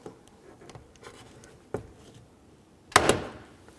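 A trim tool pops wiring harness retainers off a 2004-08 Nissan Maxima front driver's door: a few soft scrapes and taps, then one loud sharp plastic snap near the end.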